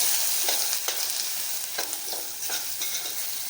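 Red chilli, garam masala, coriander powder and turmeric being stirred into fried soybean pulao in a pan, with continuous loud sizzling and repeated scraping strokes of a spatula close by.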